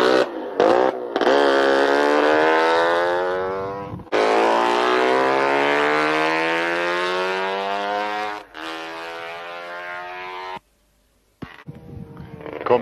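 A Kuhnke Sport 1 racing motorcycle draws closer with a loud, buzzing engine whose pitch climbs, then drops in steps as it downshifts, with brief breaks between gears before it cuts off near the end.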